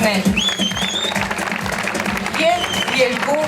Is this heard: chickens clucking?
no